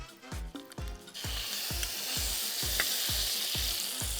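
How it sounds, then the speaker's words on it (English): Butter sizzles steadily in a moderately hot pan for a Portuguese prego roll, a continuous bright frying hiss overlaid with regular low thumping knocks from stirring or pressing, close and moderately loud. "You want to hear it sort of sizzle."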